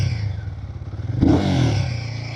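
A Royal Enfield Guerrilla 450 motorcycle's exhaust rises from a steady idle into a sharp rev midway, holding a louder, rougher roar before easing back, close and alone.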